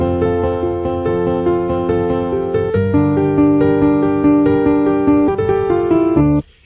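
Piano playing the intro of a song: steady repeated chords in an even rhythm that shift harmony partway through, loud and unaccompanied, ending abruptly.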